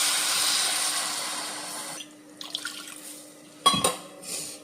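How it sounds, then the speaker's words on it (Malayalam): One and a half cups of water pours into a cooking pot in a steady hiss for a couple of seconds, then stops, followed by a clank of a utensil against the pot and quiet stirring. "ഈ സമയം നമുക്ക് വെള്ളം ഒഴിക്കാം ഒന്നര കപ്പ് വെള്ളം"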